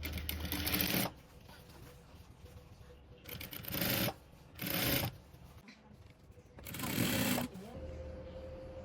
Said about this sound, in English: I'm going to go ahead and top stitch on the band so that it will make it neat